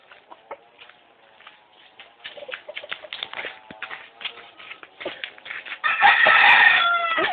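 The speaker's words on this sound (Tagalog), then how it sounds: "Manok." A chicken crows in a short rhythmic series, with softer clucks and bird calls scattered throughout, closing on a loud, close, long-held crow.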